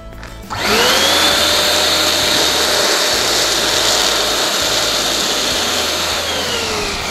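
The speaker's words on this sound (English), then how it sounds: "So put a little bit air into the clears" Electric air inflator kicks on suddenly and blows a steady, loud rushing whine into an Anagram Crystal Clearz balloon, holding an even pitch for several seconds.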